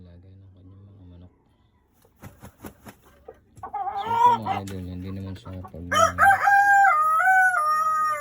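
Pet roosters and hens kept by a farm keeper cluck in short bursts, then a loud rooster crows nearby with a long wavering call, while someone talks over the opening part.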